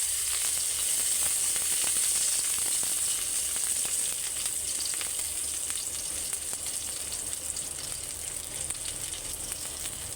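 Garlic frying in hot oil while puti fish cooks with mango, a dense, steady sizzle and crackle up close that runs unbroken the whole time.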